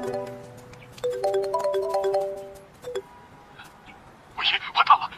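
A phone ringtone plays a short, bright electronic melody of stepped tones in an indoor drama scene, then fades into quieter room sounds and a brief burst of muffled noise.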